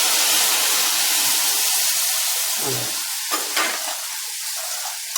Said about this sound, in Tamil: இப்போது இந்த லெமன் ஜூஸு ஊற்றிடலாம்.